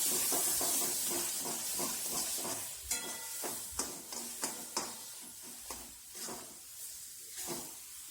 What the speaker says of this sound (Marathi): हे स्मॅश केलेलं वांग टाकलं. परत आता चांगलं परतून घ्यायचं.